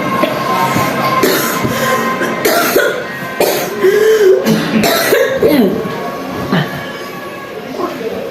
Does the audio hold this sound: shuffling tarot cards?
no